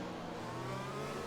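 A Ferrari Formula One car in F1 2020 passes with a steady, high engine whine, faint and continuous over the brief moment.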